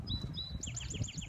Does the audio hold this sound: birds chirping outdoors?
yes